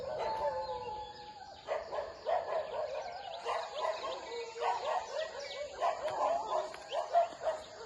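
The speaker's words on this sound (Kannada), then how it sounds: "ನಾಯಿಗಳು ಬೇರೆ ಬೋಗುತ್ತಾ ಇದೆ." Several dogs bark in repeated bursts at a moderate distance, with birds chirping in the background of an outdoor morning on a coffee estate near Mudigere, Chikmagalur.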